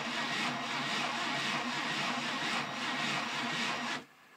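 A Crecy-type two-stroke sleeve valve drive mechanism built from a Briggs engine runs steadily with a continuous mechanical whir and rubbing clatter, fairly close, then stops abruptly near the end.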